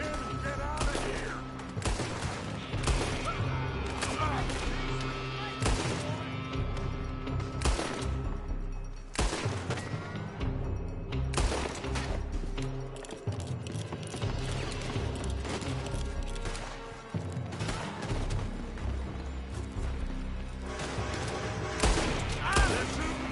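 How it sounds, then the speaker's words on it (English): Sustained battle gunfire in Red Dead Redemption 2, dense volleys of rifle and pistol shots crackling close and far without pause, with shouted voices mixed into the chaos. "They're shooting from that building!"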